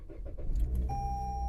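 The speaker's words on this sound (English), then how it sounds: "Simply turn on the car" A 2020 Toyota Corolla starts up, a quick mechanical crank and click settling into a steady engine idle with a high electronic tone, close and alone.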